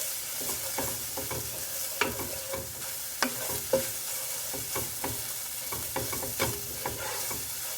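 Spices stir-fry in a hot pan with a continuous close sizzle, broken by repeated scraping and clinking strokes of a utensil stirring them.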